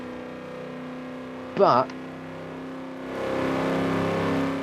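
A Ford GT350 sports car engine in Forza Horizon 4 hums at a steady low idle, then swells into a louder, sustained rev, with someone talking briefly over it.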